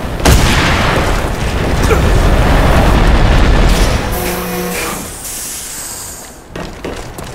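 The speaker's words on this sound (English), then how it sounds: "Explosion is intense!" A loud, sustained blast booms through a zombie video game, a dense roar that rumbles for several seconds before thinning out, followed by a sharp thump near the end.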